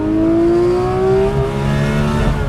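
A Porsche 911 Speedster's high-revving engine climbs steadily toward 9,000 RPM, a loud, sustained rising wail with an auto-blipped shift into second, close and continuous with no talking.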